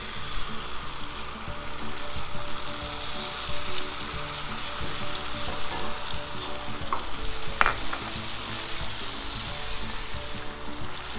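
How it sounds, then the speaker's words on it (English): A thin layer of beaten egg fries in a pan for Chinese lumpia, giving a steady, close crackling sizzle with a few brief scraping touches partway through. "the idea here is to make a thin layer, cook a thin layer of eggs"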